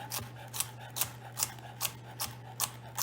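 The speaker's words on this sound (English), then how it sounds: "And you're just gonna dice it." A knife dices celery and onions on a cutting board for rice pilaf, about eight crisp, evenly spaced chops at a slow, steady pace over a low constant hum.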